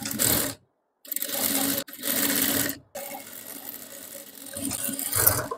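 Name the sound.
sewing machine stitching blouse hem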